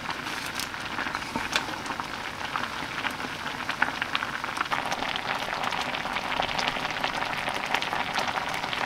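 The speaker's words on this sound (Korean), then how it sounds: "갑자기 계란 후라이에다가 케첩 이렇게 한 게 엄청 먹고 싶어서 급 계란도 부치는 중" An egg fries in a pan with a steady, dense crackling sizzle that stays even and close throughout, with no talking.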